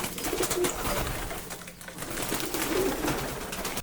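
Pigeons in a flood-damaged farmyard pen coo nearby, with two soft, rounded coos rising over a quiet background hiss.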